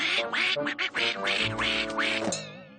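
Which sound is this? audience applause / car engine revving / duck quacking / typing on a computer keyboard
duck quacking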